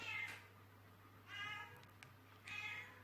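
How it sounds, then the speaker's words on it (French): A house cat meows three times at even intervals, each call short and clear against a quiet indoor background with a faint steady hum. "J'ai mon chat qui miaule, il veut sortir"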